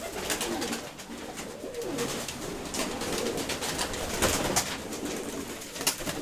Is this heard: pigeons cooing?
yes